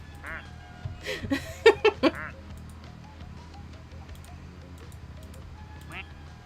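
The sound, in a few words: duck quacking in a duck-watching video game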